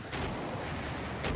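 Battlefield 4 battle din: a dense, steady wash of gunfire and explosions, with sharp bursts near the start and again near the end.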